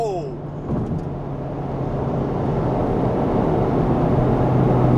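A 2018 Honda Civic Type R running a Ktuner V2 stage 1 tune accelerates hard, its engine roaring in a steady, rising drone that fills the clip, with a brief shift-like break early on and voices audible alongside.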